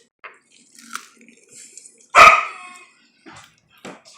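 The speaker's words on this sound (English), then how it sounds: "My other dog wants some." A dog gives a single sharp bark nearby in a quiet room while whole bluegill is being eaten, with faint scattered clinks and small noises around it.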